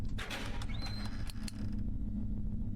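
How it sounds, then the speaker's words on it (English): An old door in the horror game The Devil's Whisper creaks open in a dark hallway, a thin rising squeal over a low hum and a few soft knocks and taps. "The sound of a door"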